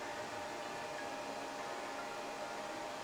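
An IceRiver KS2 Kaspa crypto miner's power supply emits a steady high-pitched whine over a continuous fan-like rush of air noise, unbroken and close.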